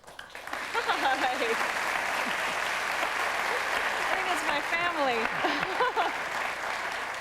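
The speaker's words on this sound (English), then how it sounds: "people applauding the idea of an education" Applause from a talk-show studio audience, sustained steady clapping throughout, with a few brief spoken words heard over it.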